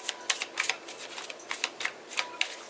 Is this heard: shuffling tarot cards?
yes